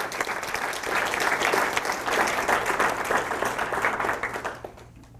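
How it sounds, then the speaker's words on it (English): A middle school speech contest audience in 2016 gives a full round of applause for its organizer: dense, even clapping that builds, holds for several seconds, then tapers off. "I think that Miss Kristen deserves a round of applause for organizing this."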